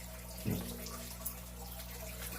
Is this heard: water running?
yes